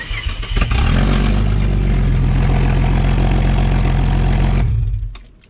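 A BF Falcon wagon engine with its exhaust deleted idles loud and raw right up close, a deep rumbling drone that holds steady before cutting off abruptly near the end.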